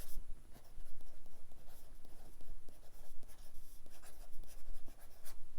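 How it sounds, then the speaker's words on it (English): A stylus scratches across a reMarkable 2 tablet on its ballpoint pen setting, giving continuous close, dry scraping strokes with short pauses between letters. "if I just start writing"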